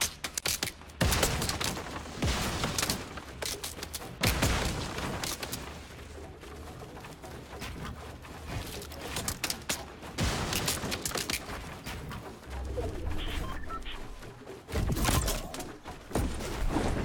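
Fortnite gunfire played on controller, scattered sharp shot bursts spaced irregularly across a long stretch, with quieter gaps between volleys.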